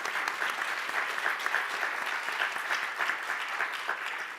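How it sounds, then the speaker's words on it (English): A conference audience at a plenary session gives the panelists a steady round of applause, with moderately loud, even clapping that fills the room for several seconds. "If we could give our panelists a big round of applause."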